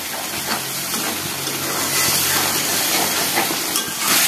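Spices cook in water and oil in a pan with a continuous loud bubbling hiss that carries steadily throughout, with no voices.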